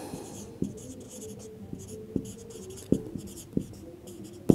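Pen strokes and taps on paper while numbers are written out for a repeating-decimal math problem, with irregular sharp clicks and scratchy scribbling close up, no talking.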